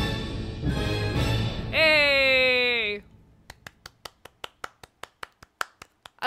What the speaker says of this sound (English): whenever I watch concerts, I always clap